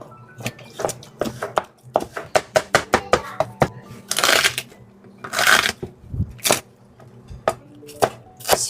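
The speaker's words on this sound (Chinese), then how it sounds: "多拿几块肉，然后把它剁碎。" Cooked braised pork being chopped into small pieces with a cleaver on a board, rapid uneven thuds in quick bursts, close and sharp, with a brief rustling scrape in the middle.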